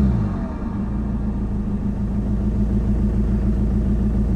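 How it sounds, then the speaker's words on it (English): A Volkswagen MK6 GTD turbo diesel, suspected of rod knock after engine damage, runs close up with a deep steady rumble and a few mild revs rather than sharp spikes. "give it a couple revs"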